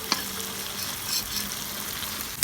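Spices being fried and stirred in a pan, a steady continuous sizzle with a light scrape of stirring near the start, close and moderately loud throughout.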